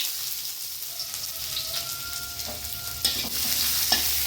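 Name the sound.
chopped onion, cinnamon, chili, bay leaf frying in hot oil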